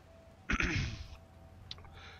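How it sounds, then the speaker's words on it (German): A man clears his throat once, a short close rasping burst followed by a faint smaller catch, in an otherwise quiet room. "Ich muss mich immer wieder räuspern"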